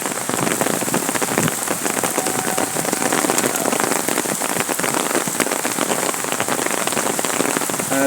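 Rain begins falling at an outdoor aviation museum, making a dense, loud, steady patter of drops on surfaces that carries on without a break and with no voices.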